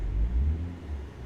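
A Porsche passing in American Truck Simulator: a steady low engine rumble with a slight swell as the car goes by, heard from inside the truck cab, no talking.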